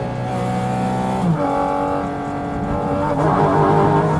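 A Porsche GT4 RS Weissach accelerates hard in third gear around 5,500 RPM, its engine note rising in a loud, close, continuous wail with a brief dip partway through as the tires break loose.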